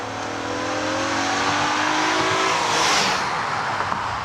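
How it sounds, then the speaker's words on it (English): A 2014 Acura RDX engine revving hard under full acceleration, a loud, continuous rising whine with climbing harmonic tones and a brief surge of noise near the end. "this drivetrain practically shrieks like a Formula One car when you open it up"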